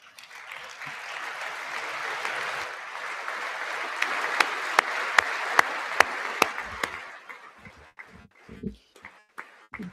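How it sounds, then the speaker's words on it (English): Audience applause at a State of the Union address, a steady wash of many hands clapping heard through a broadcast, with a few louder close claps near the microphone and people talking as it fades. "Clapping into the microphone."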